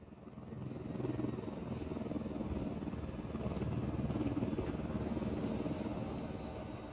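Steady, loud rotor thump and engine whine of a stolen helicopter in Ghost Recon Wildlands, droning continuously throughout, with no speech over it.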